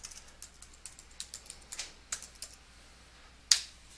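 Keys on a computer keyboard clack in a quick irregular run while a Linux terminal command is entered, light close taps ending with one sharper, louder keystroke.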